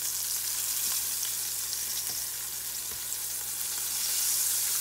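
Squid calamari frying in hot oil, a continuous bright crackling sizzle with a few small pops, close and steady throughout with no talking.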